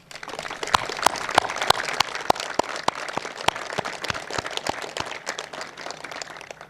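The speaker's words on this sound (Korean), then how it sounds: "국민들과 함께 우리 경찰의 활약에 뜨거운 박수를 보냅니다." Scattered applause at a Korean police officers' appointment ceremony, with sharp individual claps standing out over a steady patter from the gathering, moderately loud and continuous with no voices.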